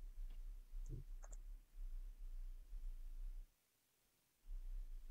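Computer mouse clicks while working in Canva, a few quick, faint clicks early on against a quiet background hiss, then near silence.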